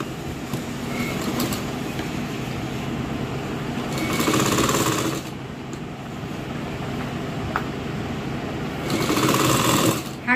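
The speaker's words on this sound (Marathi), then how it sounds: "याला 1 शिलाई मारून घेऊ." Electric sewing machine running a straight seam along a half-inch fold on the reverse side of a customer's dress, steady mechanical whir continuing throughout with two louder, faster bursts, no talking.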